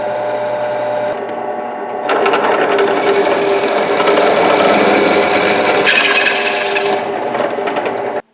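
Metal intake pipes for a homemade three-cylinder Briggs engine being cut with a power tool, a loud harsh grinding rasp that runs steadily for several seconds, shifts pitch midway, then stops abruptly.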